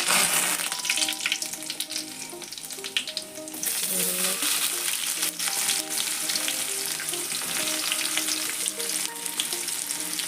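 Mustard seeds and curry leaves sizzle and crackle steadily in hot oil in a pan, a loud continuous frying hiss with faint stirring clinks, no voices.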